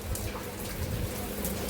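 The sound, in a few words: heavy rain falling on farm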